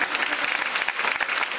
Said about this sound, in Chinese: 帮我俾最热烈、最热烈的掌声